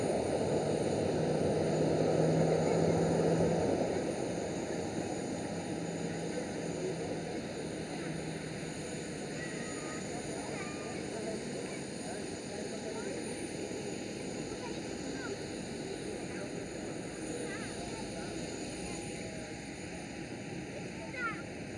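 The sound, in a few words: Boeing 737 airliner arriving at Amsterdam airport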